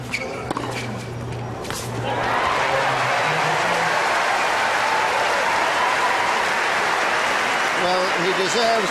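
A tennis crowd at the 2003 Key Biscayne final applauds Agassi. Clapping swells from quieter court sounds and holds as a broad, steady roar, with voices heard over it.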